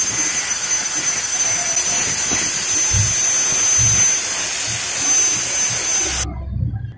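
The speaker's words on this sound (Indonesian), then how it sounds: "Kita potong bagian kayu yang tidak kita gunakan." A homemade mini sanding machine's power tool cuts off an unused piece of wood, giving a steady loud high-pitched whine that runs for several seconds and then stops abruptly.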